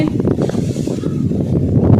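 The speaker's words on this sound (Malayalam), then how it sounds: "കാറ്റ് നോക്കിയേ" Gusty wind roars across the microphone in a low, continuous rumble, rising and falling slightly over a couple of seconds.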